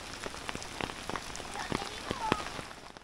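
Scattered raindrops patter and tap on a surface at an irregular pace at a campsite by Lake Cootharaba, Noosa, fairly quiet, with a soft steady hiss of rain behind them.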